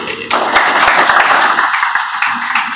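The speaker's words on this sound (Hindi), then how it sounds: "आप इनके लिए भरपूर तालियां" Hall audience applauding at a Ravadari Tehreek event, a sudden burst that settles into steady, close, loud clapping, with some voices mixed in.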